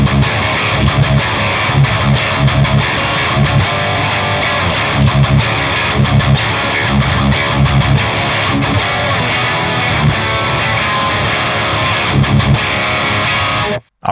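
Heavily distorted electric guitar played through an EVH 5153 100-watt 6L6 Stealth amp into a Celestion Vintage 30 speaker, a loud, dense, crushing wall of chugging riffs that runs steadily before cutting off abruptly at the end.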